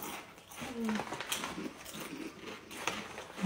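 Spicy hot chips are crunched and chewed during an eating dare, with a few close bites and munching sounds under faint background voices.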